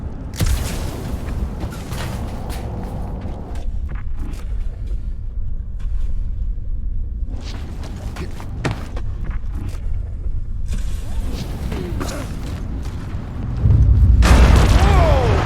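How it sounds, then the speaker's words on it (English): Deep rumbling tremors and booming explosions roll through a scene in the video game Marvel's Guardians of the Galaxy, a low continuous rumble with scattered bursts and a louder, heavier surge near the end. "Tremors have intensified."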